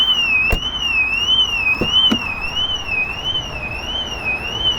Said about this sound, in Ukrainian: Сигналізація теж, бачите, є і працює.